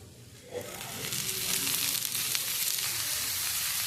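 Vegetables with turmeric and salt sizzle and fry in a pan for a vegetarian chow mein, the hiss rising after a quiet start and holding steady, close and fairly loud, with no talking.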